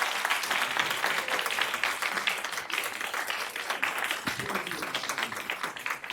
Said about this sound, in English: now would be an excellent time for you to applaud these candidates for participating in the forum